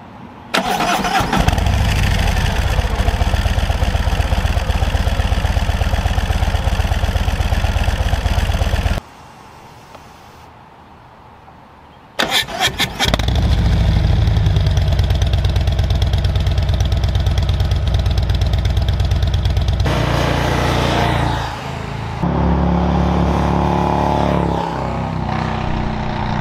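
A Harley-Davidson motorcycle with Rinehart exhaust fires up and runs loud and close, cuts out briefly, then restarts into a heavy, rumbling idle with some throttle changes near the end.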